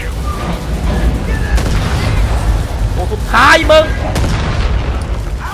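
Explosions and booming blasts in the video game Far Cry 5, mixed with game effects while a player talks excitedly over them.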